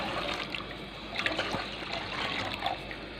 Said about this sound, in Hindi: आधा पानी तो मैंने डाला है, लेकिन आधा पानी